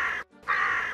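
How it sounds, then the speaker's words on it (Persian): A crow gives two loud, harsh caws close by, the first short and the second longer, separated by a brief pause, with no other sound around them. "حالا کارمان به جایی رسیده که کلاغ ها هم به هیکلمان قارقار همی می کنندی"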